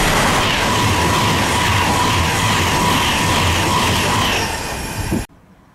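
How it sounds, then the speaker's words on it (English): A non-stopping train races through Acton Bridge station on the West Coast Main Line, a loud, close, sustained roar with rattling wheels that holds steady and then cuts off abruptly near the end. "The train now approaching platform 2 does not stop here."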